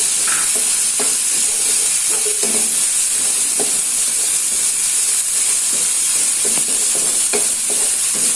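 Petai beans are stir-fried in a pan with young jackfruit, giving a steady loud sizzle and hiss throughout, broken by scattered clinks and scrapes of a spatula stirring, with no talk.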